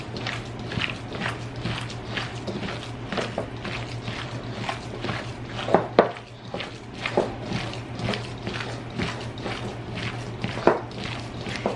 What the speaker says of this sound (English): I'm gonna get in and just mix this all up really good